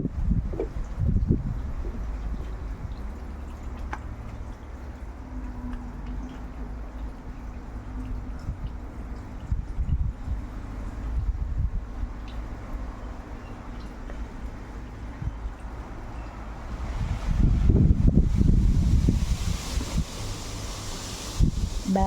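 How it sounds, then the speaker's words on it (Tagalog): Wind gusts blow outdoors near a backyard swimming pool, rustling leaves in a soft continuous hiss with a few stronger buffeting gusts against the microphone, and no one speaks. "Mahangin din ngayon."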